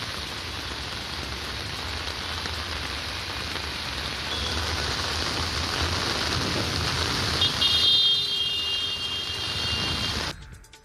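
Heavy unseasonal rain pours steadily over Pune neighbourhoods such as Kothrud, Baner and Hadapsar, a dense, continuous hiss that swells slightly louder toward the end before cutting off abruptly.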